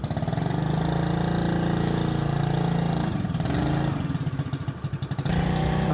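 A modified Yamaha Ray ZR scooter engine runs steadily at close range, a loud continuous low drone with a brief dip and rough fluttering near the end before settling back to a steady hum.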